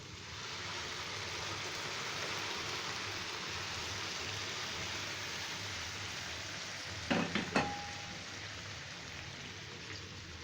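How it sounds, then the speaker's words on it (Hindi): Sugar syrup poured into a pan of moong dal halwa sizzles in a steady, close crackling hiss, with a few brief clinks partway through. "अब मैं इसमें शीरा डालूंगी।"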